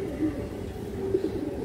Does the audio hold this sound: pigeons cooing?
yes